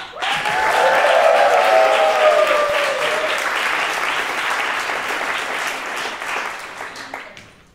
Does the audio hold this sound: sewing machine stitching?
no